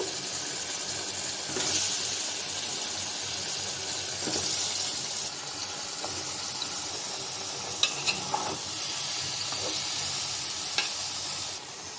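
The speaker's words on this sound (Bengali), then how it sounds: "সবজিটা একটু নাড়াচাড়া দিয়ে দিব।" Cucumber, eggplant, radish and potato fry in spices while being stirred, giving a continuous moderate sizzle broken by occasional scrapes and clinks of the spoon against the pan, with no talk.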